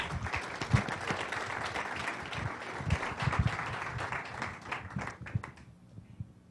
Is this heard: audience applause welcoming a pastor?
yes